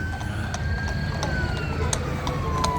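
A fire engine siren wails as it passes along a busy Blackpool street, its tone sliding downward over steady traffic noise with sharp clicking knocks.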